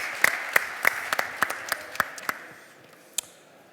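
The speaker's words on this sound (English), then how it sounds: "Applause, please." A small conference audience gives sparse applause: a dozen or so distinct, sharp claps in an uneven rhythm that thin out, with one last isolated clap after a short pause.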